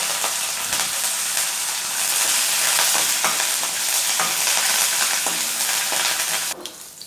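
Curry leaves sizzling in hot oil as a tempering for mint chutney, with lentils already crisped in the pan; a loud, continuous frying hiss with faint stirring clicks, ending abruptly near the close.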